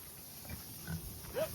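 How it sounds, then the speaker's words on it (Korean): A pig grunts a few times at a farm during a family trip to Jeju, with short, moderately loud snorts over faint background noise. "돼지인가 보다."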